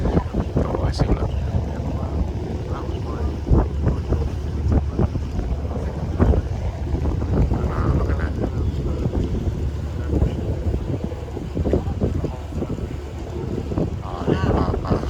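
Aboard the Duk Ling fishing boat on a Hong Kong harbour tour, a ferry passes; wind buffets the microphone over a low engine drone and water wash, with faint voices in the background.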